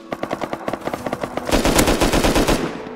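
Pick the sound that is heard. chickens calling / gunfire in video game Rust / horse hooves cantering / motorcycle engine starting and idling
gunfire in video game Rust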